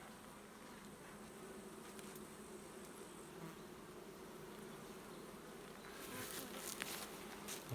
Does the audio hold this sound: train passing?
no